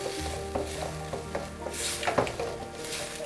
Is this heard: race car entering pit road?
no